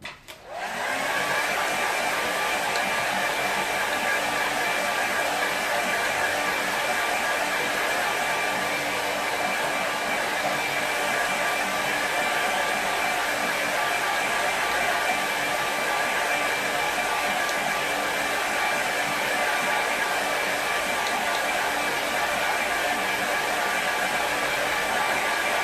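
A hair dryer switches on and blows steadily and loudly at close range for about 25 seconds while drying a woodland watercolour painting, with a constant whirring roar and no talking.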